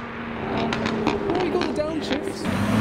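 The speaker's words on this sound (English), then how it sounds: "In the distance, we can hear revolutions of a V8" A BMW E39 with a V8 engine revs somewhere in the distance as cars leave a car show, a steady engine drone rising and falling beneath nearby voices talking.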